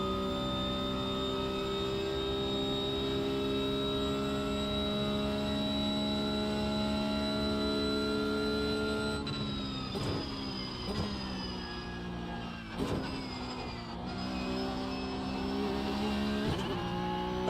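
A Porsche Cup race car at Imola holds a loud, steady high-revving engine drone, then drops through quick gear changes and throttle lifts with the pitch sliding down and climbing again, close and continuous throughout.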